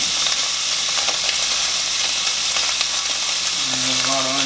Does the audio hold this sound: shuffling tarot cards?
no